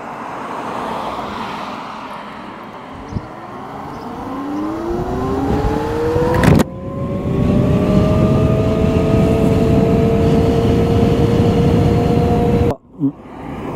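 Motorcycle engine accelerating on a test ride, its rising whine climbing through several gears over steady wind and road rumble, loud and close throughout, with a brief dropout near the end.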